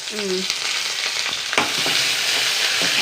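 Dried red chillies, shallots and curry leaves fry in hot oil with a loud, close, hissing sizzle, broken by a few scraping stirs of a spoon, with no talking.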